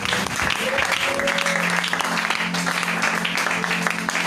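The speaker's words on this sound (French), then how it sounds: "Est-ce qu'on peut acclamer cette fois pour le Seigneur?" A church congregation applauds steadily at a French-language worship service, a dense, sustained clapping that fills the room, with voices and faint tones mixed underneath.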